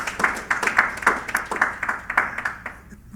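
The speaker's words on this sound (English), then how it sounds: "let's give him a round of applause." An audience at a credit union annual meeting gives a short round of applause, a dense patter of clapping that swells and then thins out over a few seconds, moderately loud with no one talking.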